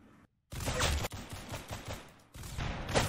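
Rapid bursts of gunfire crack out in a first-person video game, loud and close, several shots clustering then pausing before another burst, with no talk over them.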